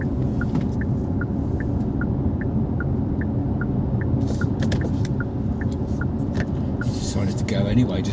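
Kia EV6 facelift electric car driving on the road: a steady low rumble of tyres and road noise inside the cabin, with a faint repeating tick throughout.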